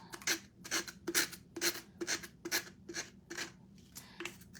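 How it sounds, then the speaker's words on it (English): Rubbing 80 grit sandpaper over a Mod Podge craft candle, about nine rhythmic scratchy back-and-forth strokes at close range, alone without talk. "And this is 80 grit sandpaper as well. So you see it comes right off."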